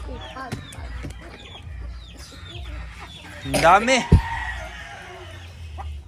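Backyard chickens cluck and call behind a house near papaya and moringa plants, with one louder rising squawk mid-way over steady outdoor background; a person speaks briefly.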